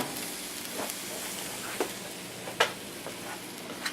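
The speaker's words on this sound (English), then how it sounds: "Go ahead and put the butter and the sauce into the pan here" Butter and sauce sizzle in a hot pan while eggs Benedict is cooked, a soft steady frying hiss close by, broken by a few sharper crackles and pops.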